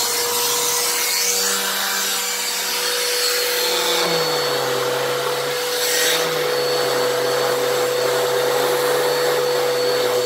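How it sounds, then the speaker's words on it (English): A vacuum hums continuously as air rushes through the hose, the pitch shifting slightly as suction changes, with occasional scraping against a surface. "Now I'm going to switch to airflow through the hose."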